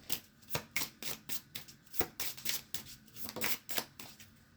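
Tarot-style cards shuffled by hand for a card reading, a rapid run of close riffling and slapping bursts in uneven rhythm, moderately quiet, with no talking.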